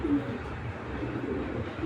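A large pigeon coos softly in low, repeated murmurs, fairly close, over a faint background hum.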